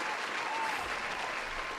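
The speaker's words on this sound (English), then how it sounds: "Can we get a cheer for that guy?" An audience at a live sports radio show cheers and applauds: a steady wash of clapping with faint voices mixed in, continuous and moderately distant.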